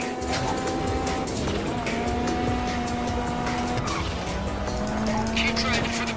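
A getaway car in Grand Theft Auto Five speeds along with a steady engine drone, tire squeals and skids, and a voice talks over the driving.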